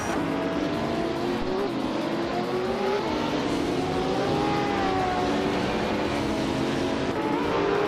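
A 2018 Toyota FT1 GTE race car engine in a racing video game drones steadily and loudly throughout, its pitch gliding up and down as it revs, with no speech over it.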